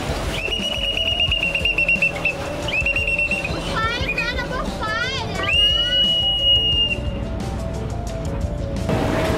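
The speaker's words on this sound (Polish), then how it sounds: "Na każdym przystanku w trakcie cumowania steward porozumiewa się z kapitanem za pomocą gwizdka." A steward's whistle signalling the captain while a boat moors: a series of shrill blasts, some held and some warbling quickly, over a busy background with voices.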